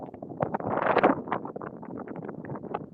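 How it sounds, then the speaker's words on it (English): Gusty wind buffets the microphone in uneven rumbling bursts, swelling loudest near the start and then fluttering on at a lower level. "it is quite windy down here today."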